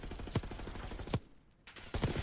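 Wall-bang gunfire in a competitive shooter match: a run of rapid shots, a short quiet gap, then more sharp cracks and bursts close up, with no voices.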